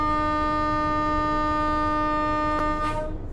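In a train simulator game on the East Coast Main Line, a level crossing alarm sounds as one steady, unbroken electronic tone, loud and close, with a short click near the end as it cuts off.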